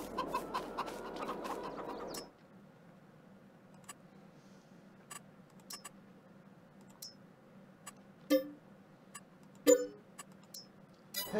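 Chickens clucking in the Farming Simulator 22 video game: a dense burst of layered fowl calls for about two seconds, then a quiet hum with a few sharp isolated clucks and clicks scattered through the rest.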